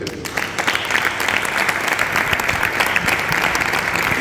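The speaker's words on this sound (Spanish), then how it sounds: "así que parte con este aplauso" An audience at a cultural event held by a federation of clubs claps in sustained, dense applause, loud and close throughout, with no break or voices standing out.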